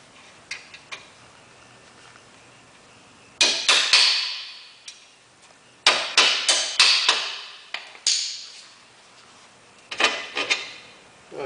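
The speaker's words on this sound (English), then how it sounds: "Then we'll tap this bolt out." A hammer taps a bolt out of a part, several sharp metallic strikes in quick clustered bursts with ringing decay between, close and loud in a quiet workshop.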